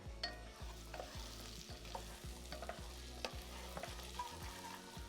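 Pistachios cook in butter in a pan, a faint, even sizzle under a regular rhythm of stirring strokes, about two per second, with no talking.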